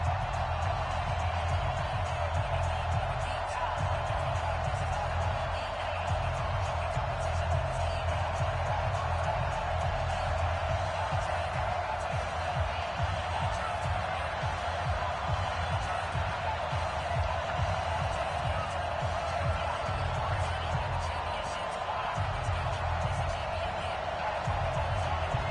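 Stadium crowd noise in an EA Sports NFL video game before a Cardinals versus Bills matchup, a steady, distant roar of cheering that holds unbroken beneath commentary throughout.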